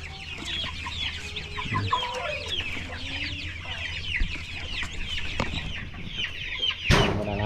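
Chicks and chickens on a farm cluck and peep continuously, with a busy layer of chirping close by, a few lower calls, and a brief thump near the end.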